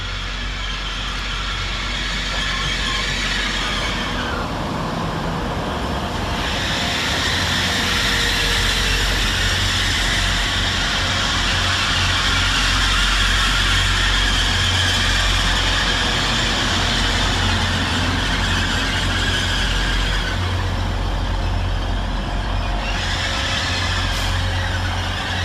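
Trains arrive at Bradford Interchange railway station, including Northern units on a Leeds to Chester service, with a loud continuous rumble of engines and wheels and sustained high brake squeal across the whole stretch.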